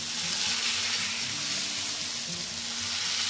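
Pesarattu batter made with nalleru and onion sizzles on a hot pan, a steady, even hiss heard up close with no talk.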